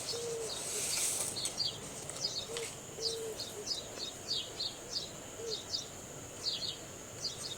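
Sparrows at a homemade bird house built from thermocol, newspaper and cardboard: repeated short, high chirps in quick bursts throughout, fairly faint against a soft outdoor background, with a few lower calls mixed in.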